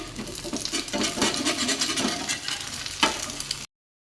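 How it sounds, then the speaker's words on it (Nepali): Omelette frying in a pan, a busy crackling sizzle with stirring and scraping strokes and a sharp utensil knock near the end before it cuts off. "अब म यहाँ चाहिँ अम्लेट बनाउन गइरहेको छु।"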